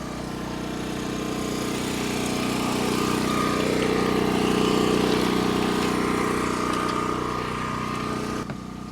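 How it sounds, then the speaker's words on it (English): A loud, steady generator engine drone runs continuously, swelling slightly in the middle before cutting off abruptly near the end. "Generator's a little bit loud."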